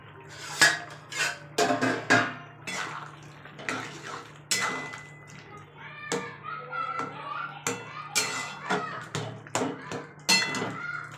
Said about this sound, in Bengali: তো ঢাকা খুলে নিচ্ছি।